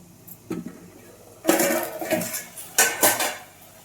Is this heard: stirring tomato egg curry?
yes